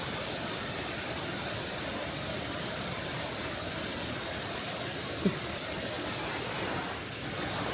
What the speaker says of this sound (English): If you can hear us, that's the waterfall.